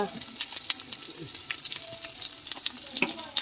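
Whole small onions and tomatoes fry in a pan for an Amma-style paneer kuzhambu, giving a close, busy sizzle with crackling pops throughout.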